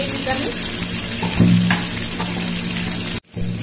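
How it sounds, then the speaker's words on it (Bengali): Onion paste drops into hot oil in a frying pan while prawn malaikari is being cooked, giving a loud, steady close sizzle that briefly swells before a short break. "এবার এর মধ্যে দিয়ে দিব পেঁয়াজ বাটা"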